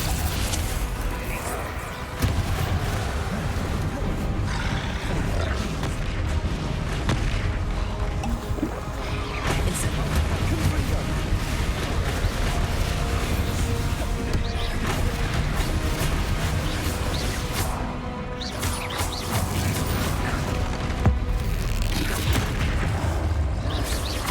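Fire and blast spells, Incendio and Confringo, go off during combat in Hogwarts Legacy, producing a dense, continuous roar of booms, crashes and whooshes with a game soundtrack underneath.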